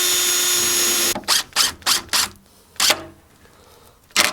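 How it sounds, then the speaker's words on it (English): A power drill bores into a wooden board for shelving, a sustained whine giving way to several short bursts and a few clicks, close and alone with no talking. "I can drill right into that line all the way down"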